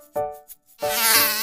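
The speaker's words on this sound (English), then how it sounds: "Yeah, that's a mosquito. This is what it sounds like." A mosquito buzzes in a short cartoon-style animal sound demonstration, a thin high whine that starts briefly, dips, then swells into a louder sustained buzz close up.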